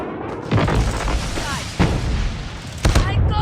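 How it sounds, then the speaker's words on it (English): Napalm strike explosions in the mobile shooter game Call of Duty Mobile: three heavy booming blasts land about a second apart, each followed by rumbling crackle, with radio-style voices talking over the gunfire. "Friendly napalm deployed."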